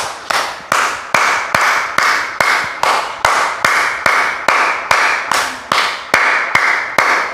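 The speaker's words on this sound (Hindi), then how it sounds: "ताली खुल करके बजाना, ऐसा नहीं इस टाइप से बजाने से कोई लाभ होने वाला नहीं है।" A group claps hands in steady unison during an outdoor yoga practice at a Shiv temple, sharp loud claps about twice per second in an even rhythm lasting throughout, with no talking.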